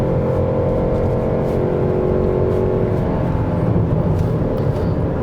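A Toyota Estima minivan accelerates on the road from inside the cabin, a continuous engine drone with a rising tone and road roar, no talking heard.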